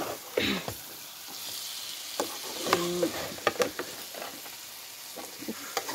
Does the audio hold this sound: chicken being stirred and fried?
yes